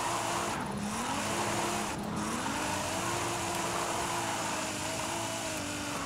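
A modified 2019 Nissan 370Z drifts in fourth gear through a long drift zone in Forza Horizon 5, engine droning steadily with a continuous tyre squeal, loud and sustained.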